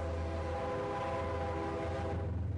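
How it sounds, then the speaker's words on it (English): Passing train with a sustained tonal horn over a rumbling, steady drone, fairly loud and continuous before easing off slightly at the end. "This train."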